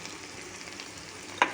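Broad beans fry in a pan with coriander, giving a soft, steady sizzle ending in one sharp clink near the end.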